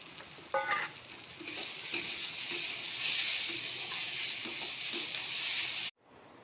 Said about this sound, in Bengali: সবজিটা ভাজা হয়ে গেছে, এখন আমি মাছগুলো দিয়ে দেবো